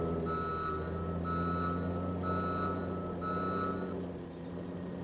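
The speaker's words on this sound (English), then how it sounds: "I thought that beeping would be a good idea." In a trucking video game, a reversing truck sounds a steady series of four evenly spaced beeps, repeating about once a second over a low engine drone.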